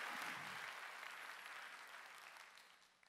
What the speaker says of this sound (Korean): 박수로 하나님께 영광을 드립니다